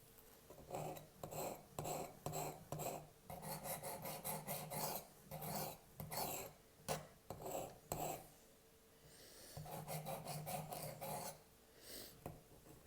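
Knife blade, a Civivi Mini Praxis, stroked back and forth on 220 grit sandpaper, giving a close, steady series of dry rasping scrapes in quick bursts with short pauses, no talking.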